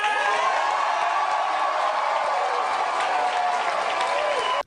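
A television studio audience bursts into loud, continuous applause mixed with cheering and whoops, sustained evenly throughout before cutting off abruptly.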